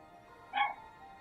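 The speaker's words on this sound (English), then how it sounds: "Oh, the puppy's barking." A single short puppy bark or yip from a dog in the video game Genshin Impact, heard once, fairly close and alone against a quiet background.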